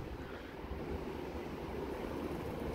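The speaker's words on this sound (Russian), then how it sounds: "И ветер." Wind blows steadily outdoors during a light snowfall after a storm, forming a broad, even rushing roar without gusts or voices.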